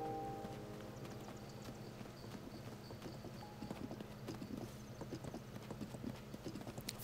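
Rhythmic clip-clop of horse hooves walking at an even pace in The Legend of Zelda: Tears of the Kingdom, with a low ambient hum underneath and no talking.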